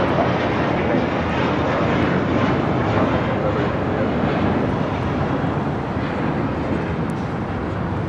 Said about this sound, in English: 2237 taking off to Houston Intercontinental on an A320.